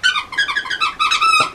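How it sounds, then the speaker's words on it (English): A squeaky Halloween dog toy gives a run of high, bright squeaks in quick repeated bursts, loud and close, with no talking over them. "here's a squeak."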